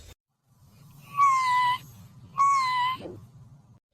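A kitten gives two clear, high, drawn-out meows about a second apart, close and distinct over a faint low background rustle.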